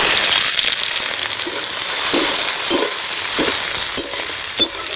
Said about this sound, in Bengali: কড়াই গরম হয়ে গেছে সর্ষের তেল দিয়ে দেবো একটা তেজপাতা মাঝখানে চিড়ে দিয়েছি লঙ্কা দুটো আর গোটা জিরে পেঁয়াজ কুচি